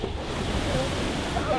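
Sea waves wash and roar steadily at a beach, with wind buffeting the microphone and no break in the broadband rush.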